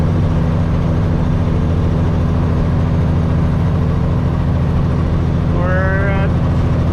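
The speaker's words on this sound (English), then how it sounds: "But if we get up to 1700 RPM, we get a little bit more boost." A truck's turbocharged engine runs at about 1700 RPM, a loud, constant low drone filling the whole stretch, with a faint rising whistle near the end.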